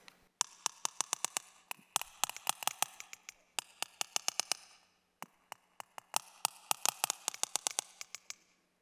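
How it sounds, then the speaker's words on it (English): Sperm whale codas: rapid trains of sharp broadband clicks arrive in distinct bursts separated by short pauses, with a steady low hum running underneath. "they talk in these distinct pattern sequences of clicks"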